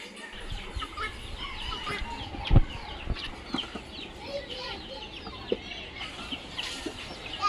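Backyard chickens of a heavy breed kept by a breeder, clucking and calling in a noisy, cluttered farmyard, with scattered squawks and a sharp knock standing out against constant background noise.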